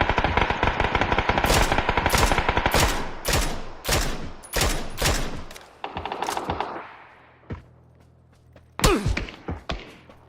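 Rapid bursts of automatic gunfire in the battle royale game PUBG, loud and close, firing in long rattling volleys, then a pause and a few final scattered shots.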